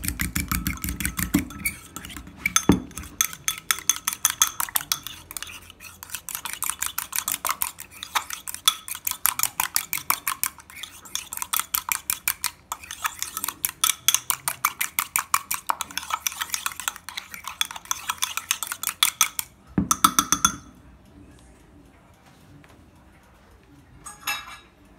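A small spoon beats turmeric into dough in a bowl, giving fast, steady clinking and scraping strokes that run loud and close for about twenty seconds before stopping, then a short final burst.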